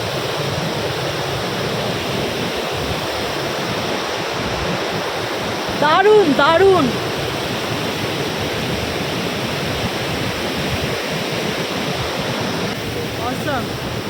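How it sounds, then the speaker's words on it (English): Pykara Waterfall in the hills near Ooty, a steady loud roar of rushing water filling the whole clip, with a brief voice calling out partway through. "That's the Pykara Waterfall."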